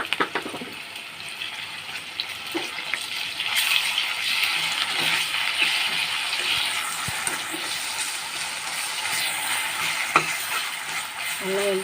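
Onions browned in a pan with a spoonful of ginger-garlic paste added, frying with a steady close sizzle while a spoon stirs and scrapes in occasional clicks, no voices.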